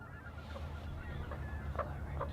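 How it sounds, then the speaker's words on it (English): Swans call from the water in a few faint, nasal honks spaced apart, heard from a distance over a low, steady outdoor background. "Lots of birds on the water, like these swans."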